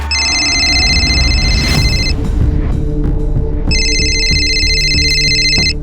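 A telephone rings in a Mumbai kidnapping crime drama, with two long bursts of a bright electronic ringtone separated by a short pause, loud and close over a low background rumble.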